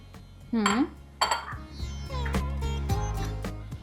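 Kneaded modak dough is moved into a bowl with a few clanks of metal dishes and utensils, under voices and a steady kitchen hum.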